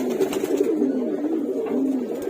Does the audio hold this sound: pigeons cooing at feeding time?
yes